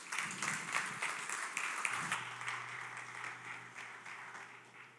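An audience at a fraud and ID solution launch event in a Sheraton Kampala hall applauds after a talk: a soft, distant wash of clapping that fades gradually.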